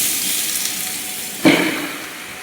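Ingredients for mutton sambar fry in a pan with a constant soft hiss, and a brief louder sizzling burst near the middle.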